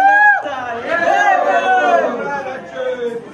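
Devotees crowd the Jejuri temple on Somvati Amavasya, and their chatter forms a continuous mid-level murmur. A nearby voice talks over it throughout.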